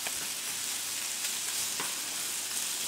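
Bacon sizzles and fries in a pan, a steady broadband crackle holding at a constant level for the whole stretch, with small pops and occasional louder spits now and then.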